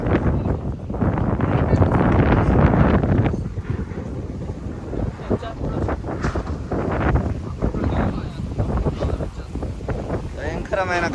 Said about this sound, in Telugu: గాలి అయితే భయంకరంగా వేస్తుంది